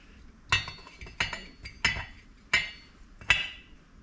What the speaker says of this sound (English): Sorry about unscrewing it and hearing it unscrew.